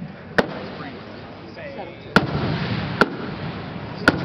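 Four sharp bursts from 4-inch timed firework shells on a hammer, a single report near the start and then three more spaced about a second apart, loud and close over a steady crowd-like background with faint voices.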